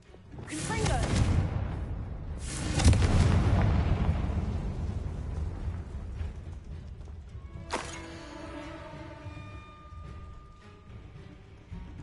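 A Confringo spell blast in Hogwarts Legacy, cast inside a bone-filled tomb, erupts as two heavy, booming explosions in quick succession with long rumbling tails. A sharper magical crack follows, trailing off into ringing tones.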